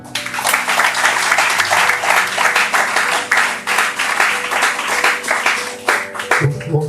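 Audience applause at a free smartphone distribution event for visually impaired people at VHS Hospital, Taramani, a dense sustained round of clapping filling the whole stretch, with a low hum underneath.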